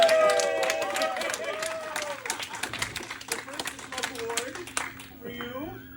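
Audience at a vintage computer expo claps steadily through the clip, a moderately loud patter of hands with brief whistle-like tones and voices mixed in.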